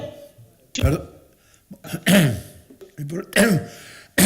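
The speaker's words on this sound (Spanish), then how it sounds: "aparte de la tos mía" A few harsh coughs and throat clearings come close to the microphone during a seminar talk, separated by short pauses, with a bit of speech mixed in.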